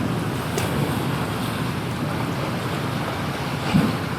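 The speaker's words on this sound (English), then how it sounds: "I had to turn the camera around because it's too bloody windy" Strong wind buffets the microphone at the seashore, a constant roaring rush with surf noise underneath and a brief gust thump near the end.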